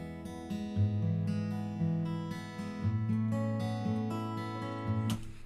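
A virtual Martin acoustic guitar sample plugin strums and picks a steady chord pattern with bright string attacks and ringing bass notes, played alone at moderate volume.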